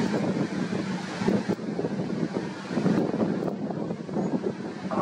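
Gale-force wind buffeting a camera microphone on the seashore, a loud continuous low rumbling roar with gusty surges, no speech.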